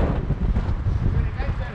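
Storm-force wind buffets the microphone during a mountain bike ride toward a city park, a steady low, rumbling roar that fills the whole clip with gusty surges.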